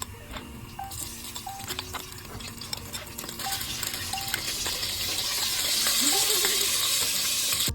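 Ginger frying in a pan is stirred with a utensil, giving soft scrapes and clinks over a gentle sizzle that builds louder toward the end, with brief talk nearby.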